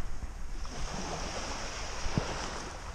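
Calm sea at a beach on a flat, still day, a soft continuous wash of small waves with light wind noise against the microphone and no talking.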